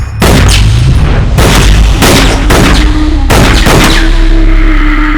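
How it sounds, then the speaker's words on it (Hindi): Gunfire from an action film scene, with bullets pumped into a dummy in several loud, booming bursts of rapid shots separated by brief pauses, close and very loud. "ये सारी गोलियां तू उस पुतले के सीने में उतार कर क्या साबित करना चाहता है"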